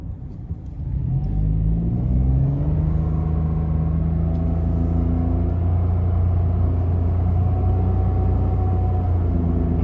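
A 2020 Mitsubishi Mirage hatchback's 1.2-litre naturally aspirated inline three-cylinder engine paired with a CVT, heard from inside while driving as a loud, steady low drone with a gently rising tone after pulling away.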